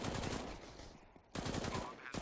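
Rapid bursts of automatic gunfire from a CS:GO match, loud and close, in two dense volleys separated by a brief lull.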